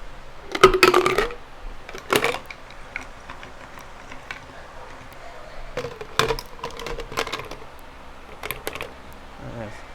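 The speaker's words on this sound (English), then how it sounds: "Now I'm gonna fill it up with some ice real quick." Ice being filled into a gym shaker cup, a few clattering bursts of cubes dropping and rattling against the plastic, separated by quieter gaps, close and fairly crisp.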